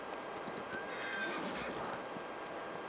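A horse in the Farming Simulator 22 video game whinnies once over a constant, faint background hiss. No one speaks over it.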